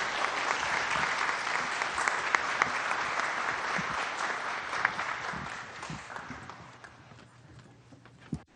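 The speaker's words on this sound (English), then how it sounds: "So maybe a little round of applause for our students, our LPS students." A community forum audience applauds high school students, a dense, even clapping that holds steady for several seconds, then tapers off with a few scattered final claps.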